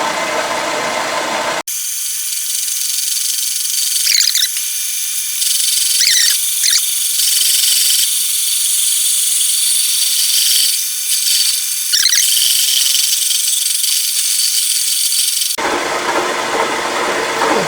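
A machine cutting a bandsaw blade guide part at 150 RPM gives a steady metallic whine with light rhythmic scraping, running continuously and fairly loud between brief quieter moments at start and end.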